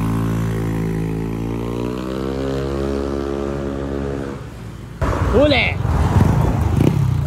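A Yamaha NMAX v2 scooter with a 59 throttle body and an exhaust pipe stripped of its fiber packing revs loud and close, its pitch rising steadily. It cuts off suddenly, then idles roughly while a person talks.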